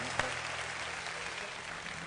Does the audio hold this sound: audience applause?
yes